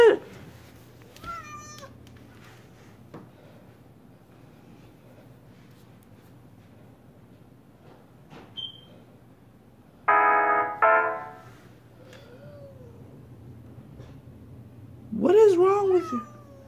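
A cat lets out several loud, drawn-out meows in bursts, with hissing, quieter stretches and faint background noise between them.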